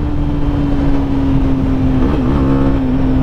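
A Honda CB 250 Twister motorcycle accelerates on a curvy road, its engine holding a loud, steady, close drone with a short wobble in pitch as the revs shift.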